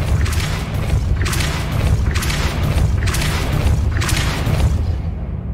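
A Depulso force spell is cast repeatedly in Hogwarts Legacy, producing a series of loud, booming whooshes about once a second over a steady rumble.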